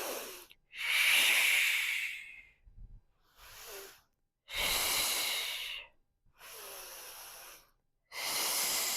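Heavy rhythmic breathing during a Pilates core and glutes workout, with long loud hissing exhales and inhales repeating in a steady cycle, close and with no talk over it.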